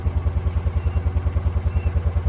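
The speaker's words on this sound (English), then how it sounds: "I got a new tractor." A new tractor's engine runs with a fast, even low thumping pulse, close and loud, chugging steadily without revving.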